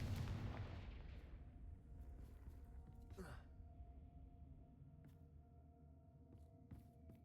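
A Confringo blasting spell detonates in Hogwarts Legacy, a loud boom up front that rumbles and fades, followed by faint scattered crackles and thuds.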